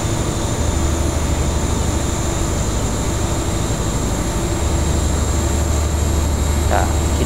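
A train pulling nine wagons in Train Simulator 2015 gives a steady, loud mechanical drone with a constant rolling hum and thin tonal whine, continuous and close with no clear breaks.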